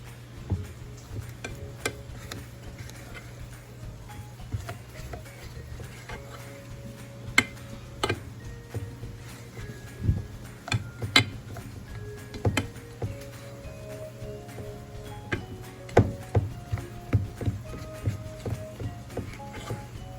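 Soft, irregular wet taps and scrapes of a utensil folding mashed potato in a bowl, steady but quiet, with small clicks against the bowl and no voice over it.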